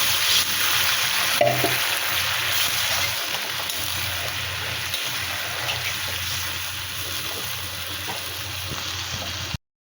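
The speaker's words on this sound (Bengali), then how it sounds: "ভাজা হয়ে গেছে যেহেতু, এতে ফুটানো জল দিয়ে দিই।" Boiled water goes into a pan of frying spiced brinjal curry, raising a loud, continuous hiss and sizzle that holds steady for about ten seconds with no voices.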